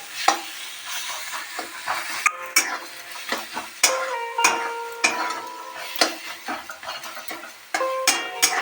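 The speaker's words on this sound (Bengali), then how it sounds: "দেখুন ভাজা প্রায় হয়ে এসেছে আর একটু সময় হলেই হয়ে যাবে" Eggplant, tomato and cabbage leaves sizzle and fry in a pan while a utensil repeatedly stirs and scrapes, with clinks of metal throughout.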